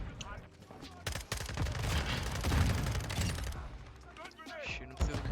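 Rapid gunfire in Modern Warfare 2 from an FSS Hurricane build, with dense bursts of automatic shots, clattering mechanisms and impacts over several seconds, loud and close, under occasional talk.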